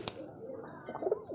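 A female ghiya-chali pigeon gives a short, soft, throaty coo, faint and close, with a small click at the start and no talk.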